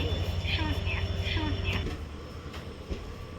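The Tutari Express on the Konkan Railway rumbles steadily at Sindhudurg station with a low continuous drone, faint squeals and clanks, then the noise eases slightly toward the end.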